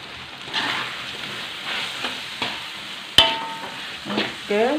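Macaroni fries in a pan with a steady soft sizzle while a utensil stirs and scrapes it in irregular strokes, with one sharp clack of metal partway through; no speech.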